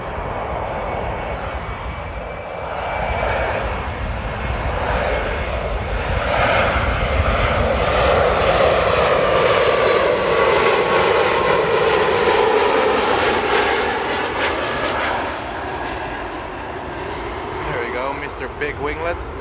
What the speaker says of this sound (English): Ooh, that's a really smooth touchdown there.